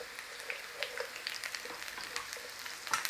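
Golden potatoes fry in hot oil with a steady, soft crackling sizzle and scattered pops throughout, fairly quiet and with no voices.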